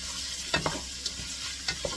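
Food fries in hot oil with a steady soft sizzle, broken by a few light stirring taps and scrapes, close and fairly quiet, with no voices.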